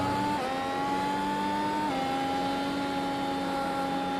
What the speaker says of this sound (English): hear the engine of the car as Christina Ryan goes into the pits